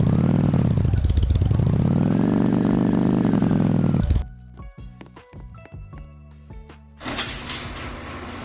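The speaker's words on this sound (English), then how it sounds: "this is the last vehicle which I own, and it is a motorbike, and it's really fast" A pink and black motorbike in the Roblox video game makes a synthetic engine drone that swells and dips in pitch for several seconds, then gives way to sparse clicks and a brief burst of noise.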